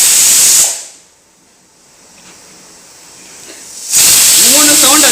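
A pressure cooker cooking kuthiraivali millet lets out sharp, loud hissing whistle blasts at the start and end, with a quieter stretch of soft hiss and background noise between them.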